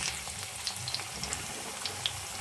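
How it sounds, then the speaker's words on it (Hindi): Potatoes frying in the same oil just used for aubergine, a faint steady sizzle with scattered small crackles and pops, no voices over it. "अब डालेंगे हम आलू, उसी तेल में हम आलू डाल दें फ्राई करने के लिए"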